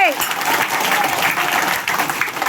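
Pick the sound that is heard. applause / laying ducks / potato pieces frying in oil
applause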